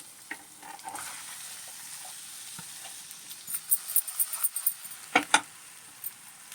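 Pulasa fish pieces frying in a pan, a soft sizzle with a cluster of louder crackling pops and stirring scrapes near the end.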